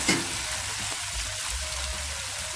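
Indian lettuce hits a hot wok with fermented black beans and canned fried dace, giving a brief loud crackle followed by an even, dense sizzle close up and with no voices.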